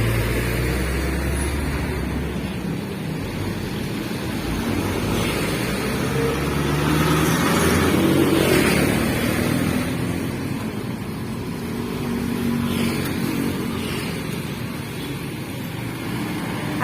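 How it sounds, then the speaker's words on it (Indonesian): Roadside traffic on a street where an elderly man sells goods from a cart, a continuous loud rumble of passing cars and motorbikes swelling and fading as vehicles go by, with no speech. "jadi maklum kalau ada berisik suara kendaraan"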